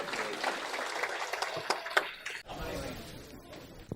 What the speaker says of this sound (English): Let's give Angel a little round of applause.